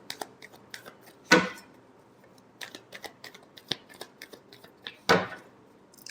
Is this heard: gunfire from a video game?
no